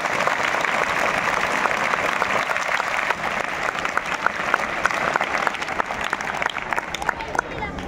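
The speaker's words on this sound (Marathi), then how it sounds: "एकदा कडाडून टाळ्या फक्त तुमच्या आई वडिलांसाठी वाजवायचे" An audience at a social awareness talk in Latur claps loudly for their parents, producing a dense, sustained burst of applause with some crowd murmur mixed in.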